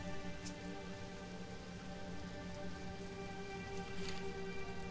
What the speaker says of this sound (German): Da es hier oben ja immer noch regnet wie Sau.